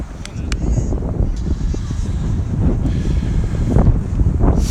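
Steady wind blowing across an outdoor soccer field during a youth match, a constant loud rumble buffeting the microphone without a break.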